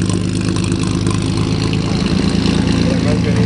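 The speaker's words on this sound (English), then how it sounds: "Six-cylinder power, inline Blue Flame 6." Chevy inline Blue Flame six-cylinder engine from a junkyard car, cold cranked and idling loud and close with a steady, even rumble, with a voice speaking over it.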